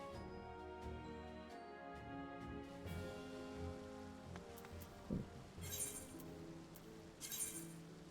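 Rain in the video game Final Fantasy XIV falls as a soft, steady patter under sustained musical tones, with a few clinks and brief brighter splashes late on.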